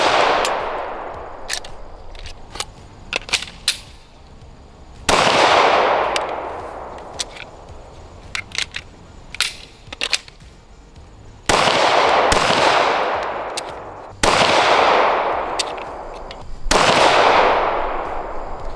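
A Shadow Systems CR920XP pistol fires at an outdoor range, with five loud, sharp reports spaced several seconds apart, each ringing out into a long decaying echo, and smaller clicks and handling noises in between.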